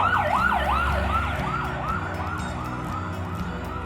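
A rescue vehicle siren wails in rapid rising and falling sweeps, fairly close, near the Chong Mek border crossing to Laos, with traffic rumble underneath and no speech.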